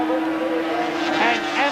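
Racing motorcycles at the 1981 Silverstone Grand Prix, a high engine whine held loud and close with a rising pitch as a bike passes, a voice talking underneath.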